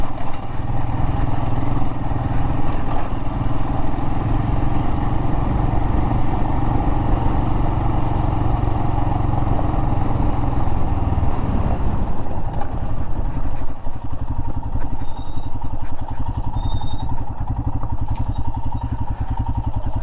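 Royal Enfield Himalayan motorcycle riding over desert gravel, rocks and small boulders, a loud, close, steady engine drone with rattling and clatter that shifts and drops in tone partway through, no speech.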